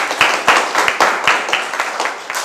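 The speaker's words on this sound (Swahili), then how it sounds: "Sawa, pigeni makofi." A classroom of pupils claps hands together in a quick rhythmic burst of about a dozen sharp, loud claps, close by and unaccompanied by talk.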